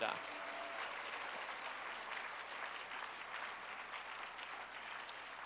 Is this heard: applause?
yes